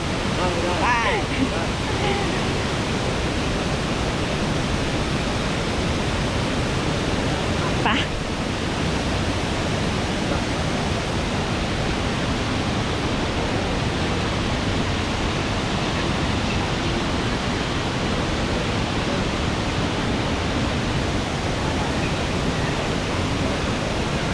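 Steady broadband rush of falling water at Mae Ya waterfall in Thailand, a continuous close roar filling the whole stretch, with brief faint voices near the start.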